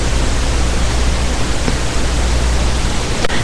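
A steady, broadband hiss of pink noise, even and unchanging throughout, like distant rushing water.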